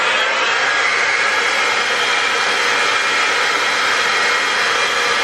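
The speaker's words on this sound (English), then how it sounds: "Then I'll go in with just a normal hair dryer." A hair dryer blows steadily and loudly at close range while styling a mullet haircut, a continuous broadband whoosh with no pauses and no talking.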